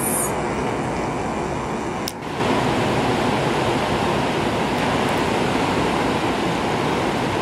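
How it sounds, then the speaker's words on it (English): A steady, wash-like roar of ocean waves at a beach, continuous and fairly loud, with a brief dip partway through. "I love just listening to the waves."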